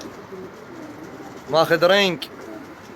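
One of a breeder's fifty racing homing pigeons gives a short, close burst of throaty cooing partway through, while a voice murmurs faintly in the background.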